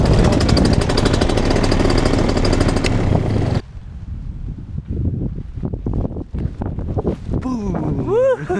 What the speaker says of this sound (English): Hopefully the engine keeps running.